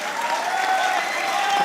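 Studio audience applauding at a comedy talk show, a dense, even wash of clapping with some crowd noise, steady throughout.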